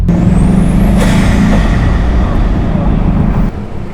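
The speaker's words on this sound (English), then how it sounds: "It's 4 turbos letting go of their fury." Quad turbochargers on a Bugatti Chiron release boost in a loud, sustained whoosh and rumble, with a rising whistle early on, before the level drops sharply near the end.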